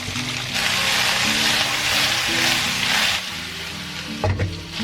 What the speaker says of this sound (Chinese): 我们接着把这个料头倒去给它爆香